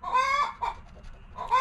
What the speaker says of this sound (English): my chicken had to go off right now